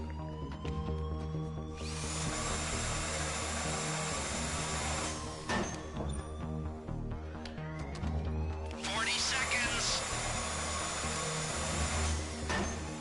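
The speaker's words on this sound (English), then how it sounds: "I'm gonna drill this whole wall here." A power drill grinding through a wall in GTA Online, two long loud bursts of whirring drilling separated by a brief lull, with scattered clicks and game noise beneath.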